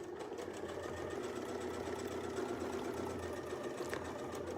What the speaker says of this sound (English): I'm going to sew all the way across.